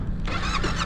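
A Yamaha Tenere 700 motorcycle engine rising briefly in pitch as the throttle opens, a loud, close, steady mechanical drone lasting under a second, with no voices.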